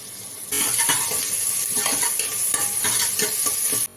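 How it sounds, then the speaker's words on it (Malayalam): Sliced onions with salt sizzling in a pressure cooker as a utensil stirs them, scraping and clinking against the metal pot over a steady frying hiss that starts abruptly and stops near the end. "ഇനി ഇതിലോട്ട് അല്പം ഉപ്പിട്ട് നമുക്ക് നന്നായിട്ട് ഇളക്കി കൊടുക്കാം"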